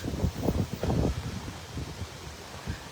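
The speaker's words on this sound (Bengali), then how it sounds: "বৃষ্টির সাথে বাতাস।" Gusty wind blowing along a New York street as rain starts, a rough, rumbling roar that swells in strong bursts early on and then settles into a steadier, lighter rush, with no talking.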